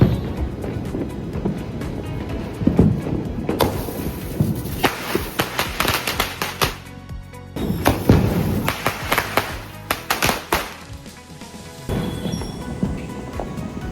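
Diwali firecrackers burst in quick irregular clusters, sharp cracks and pops rattling close by over several seconds, with a short lull between volleys.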